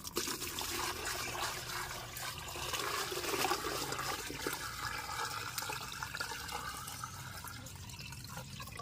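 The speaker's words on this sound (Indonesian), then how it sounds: "kemudian kita tambahkan air" Water pours steadily into a 5-litre bucket with a continuous splashing, gurgling rush, close and fairly even throughout, while mixing organic fertilizer.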